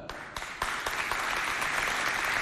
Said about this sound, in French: applaudissez très fort pour les femmes scientifiques qui sont dans la salle